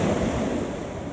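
Atlantic Ocean surf at Little Bay, Jamaica, washes in a broad, loud, continuous hiss with wind buffeting the microphone, close by and without speech.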